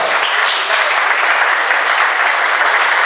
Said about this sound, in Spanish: aplauso para todo el equipo